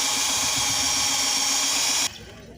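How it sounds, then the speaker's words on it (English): A drill bores out a broken bolt with a 5 mm bit, a steady high whining motor hum that cuts off abruptly near the end, with no talking. "and we drill the hole"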